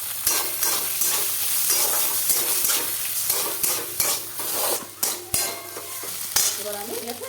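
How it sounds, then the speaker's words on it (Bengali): Three eggs fry in hot oil with chillies for a pasta dish, a loud continuous sizzle broken by repeated stirring and scraping of a utensil against the pan. "এই তেলের মধ্যে 3টে ডিম আছে, 3টে ডিমকে দিয়ে দেবো।"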